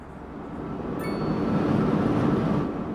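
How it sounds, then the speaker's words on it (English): Trams roll along a track in the city-building game Cities Skylines 2, a steady rail rumble that swells louder midway and holds, with a brief faint high squeal, no speech. "We got our trams, of course, running down there."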